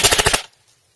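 Airsoft gun firing on a 7.2 volt LiPo battery, a quick burst of about six rapid, evenly spaced shots close by, then silence.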